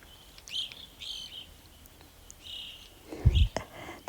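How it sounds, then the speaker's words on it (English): A flock of evening grosbeaks gives short high chirping calls at moderate distance, scattered across the moment, with a brief low bump near the end. "These are evening grosbeak. Very noisy birds that fly in great big flocks."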